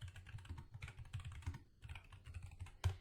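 Keys clatter on a computer keyboard as a version-control commit command is typed, a fast run of close, light clicks with brief pauses and a firmer keystroke near the end.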